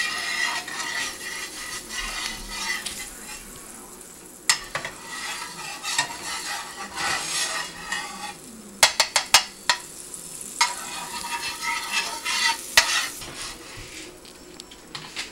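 Butter sizzling in a pan ready for pancakes, a continuous close crackle with frequent scraping and clicking of a utensil, including a quick run of sharp taps near the middle; no talk.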